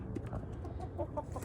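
Chickens cluck softly in a backyard flock that includes a silkie rooster, with short bird calls scattered over a steady low rumble of background noise.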